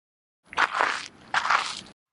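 Two close footsteps on compacted sand, each a soft gritty crunch about a second apart, heard alone in silence.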